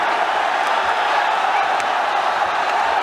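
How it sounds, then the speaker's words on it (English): Dense, roaring crowd at an MMA fight featuring Aung La, steady and loud throughout with scattered whoops and cheers, sounding broad and continuous rather than in separate bursts. "This crowd is crazy."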